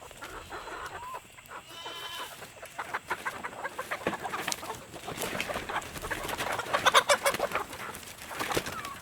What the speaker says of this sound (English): Happy chickens, eating away.